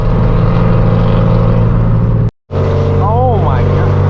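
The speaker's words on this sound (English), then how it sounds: "That's an AMG, listen to that." A loud, deep engine drone from a Mercedes-AMG at a street car meet, heard alongside a straight-piped BMW M4 F82. It holds a steady low rumble, cuts out briefly in the middle, then returns with a rising whine over the top.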